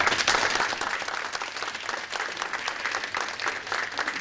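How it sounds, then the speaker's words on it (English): Applause from an audience at an academic awareness awards ceremony, a steady wash of clapping filling the short stretch at moderate loudness with no voices over it. "Let's give them an applause, please."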